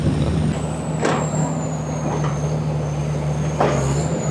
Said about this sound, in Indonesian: saat ini mobil beko atau alat berat sedang melanjutkan pembongkaran ruko yang tadi hanya dibongkar dindingnya saja